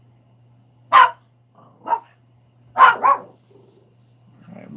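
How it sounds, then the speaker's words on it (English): A dog barks four times in close succession, loud and near, with short pauses between the barks and a low steady hum underneath, while a person says a word at the end. "who are you barking at?"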